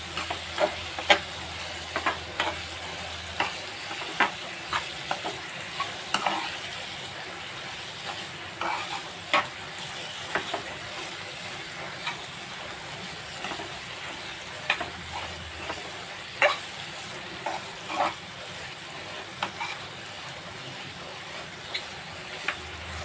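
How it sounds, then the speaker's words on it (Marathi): Prawns for a spicy dry prawn dish stir-fry in a pan, a soft steady sizzle broken by repeated scraping stirs and light clicks of the spoon, close and moderately quiet with no talking. "त्यामध्ये आपण आता कोलंबी घालूया आणि ती चांगली मिक्स करून घेऊ."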